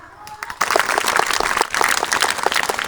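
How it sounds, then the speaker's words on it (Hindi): A group of schoolchildren claps at a school in Madhubani, Bihar, a dense burst of applause that starts abruptly and carries on steadily and fairly loud, with some voices mixed in. "बहुत गंदा ताली बजाए तुम लोग"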